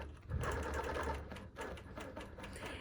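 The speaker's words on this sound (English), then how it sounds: "I'm just going to press the green check mark, and now it's going to start to stitch." A Q Series quilting machine stitches a crosshatch pattern, giving off a steady, fast mechanical whir with a rapid needle rhythm that runs unbroken and close throughout.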